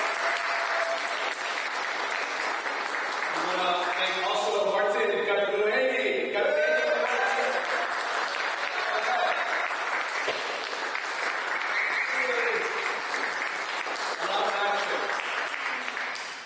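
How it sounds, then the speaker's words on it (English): An audience gives a sustained round of applause for Commissioner Jeffrey Watson at a Miami event, steady loud clapping running the full length while someone speaks over it through the middle. "Big round of applause for Commissioner Jeffrey"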